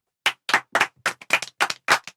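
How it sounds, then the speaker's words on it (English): Schoolchildren in a classroom clap together for a classmate, about ten crisp, fairly even claps in a brief rhythmic round, close and loud with no talking. "You give her a clap."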